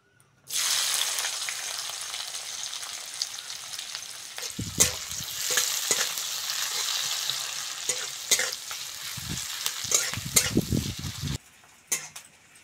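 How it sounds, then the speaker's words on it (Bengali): Chopped onion frying in hot oil left over from frying fish, a steady loud sizzle with intermittent spatula scrapes and pan clatter, no talking. "ওই তেলের মধ্যে কুচনো পেঁয়াজ দিয়ে দেবো।"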